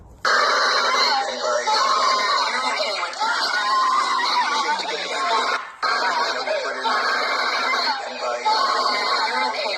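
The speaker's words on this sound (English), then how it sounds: "I have the big megaphone, and I got the screaming babies" A recording of screaming babies blares through a big megaphone outside a hotel, a loud, harsh and distorted wall of wailing that runs continuously with barely a break.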